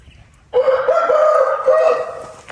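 A Korean-breed rooster crows loudly and close by, a single sustained crow beginning after a brief quiet lead-in and holding for about two seconds before tapering off.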